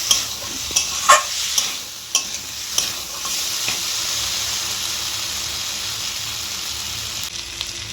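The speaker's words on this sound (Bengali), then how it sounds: "ভালো করে মশলার সাথে কষিয়ে নিতে হবে কচুটাকে" Boiled taro being sautéed with spices in a pan, a steady broadband sizzle with a few sharp scraping stirs near the start, then a continuous even frying hiss.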